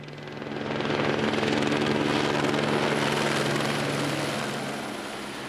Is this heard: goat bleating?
no